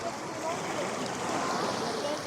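Waves wash onto a crowded Barcelona city beach in summer, a continuous broad roar blended with the indistinct buzz of many conversations.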